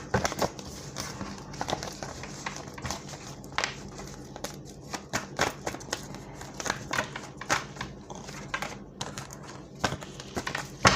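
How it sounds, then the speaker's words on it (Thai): Tarot cards being shuffled by hand during a reading, a close, continuous run of crisp papery riffles and taps with irregular rhythm and no talk over it. "เดี๋ยวขอสับไพ่สักครู่นะคะ"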